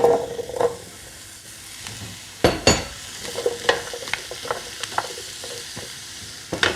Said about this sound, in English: Tip the vegetables in.